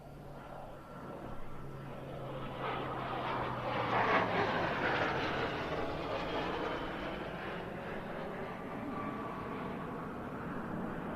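A Boeing F/A-18 Hornet jet flies past at the RIAT airshow, a broad roaring engine rumble that swells toward the middle and then fades slowly with distance.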